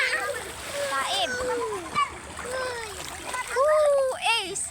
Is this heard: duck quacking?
no